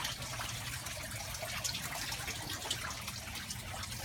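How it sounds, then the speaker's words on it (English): Water runs continuously through a backyard aquaponics setup of Dutch buckets and PVC pipe, a steady, fairly close rushing and trickling wash that stays even throughout with no voices. "that runs the water down through that PVC pipe"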